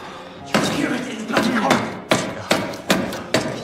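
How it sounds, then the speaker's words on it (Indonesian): A screwdriver working a wooden peg out of a prison door makes a run of sharp, loud knocks and thuds, about six strikes at an uneven rhythm, close by over a rough, scraping background. "Ia pun memutuskan untuk mencongkel pasak kayunya menggunakan sebuah obeng."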